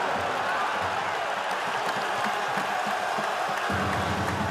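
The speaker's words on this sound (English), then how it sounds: "This Wake Forest crowd has come to life as a slam dunk contest has opened up at the Joel." Wake Forest basketball fans roar in a dense, sustained swell of cheering and applause at the Joel after a slam dunk, a broad crowd noise that holds steady across the moment.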